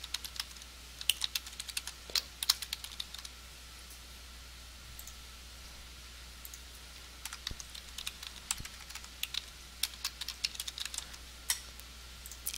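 Fingers typing a blog post title on a computer keyboard, a quiet patter of uneven keystrokes in short bursts with pauses, close and alone against a faint steady hiss.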